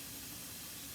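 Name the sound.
rice being sieved, steam hissing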